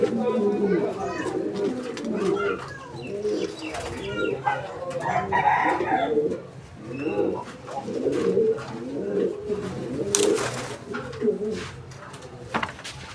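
Fancy pigeons coo repeatedly at a busy Bangladeshi pigeon market, soft throaty calls close by, with an occasional rooster crow, under continuous talking from a man.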